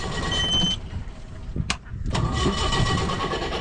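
A long-unused diesel vehicle that had run out of fuel cranks and catches in a hilly village, its engine loud and close, then settles into a rough, uneven running rumble.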